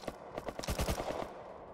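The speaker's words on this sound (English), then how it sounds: "Oh, that's AK, dude." Rapid automatic AK rifle fire in the survival video game Rust, a short burst of close, punchy shots in quick succession.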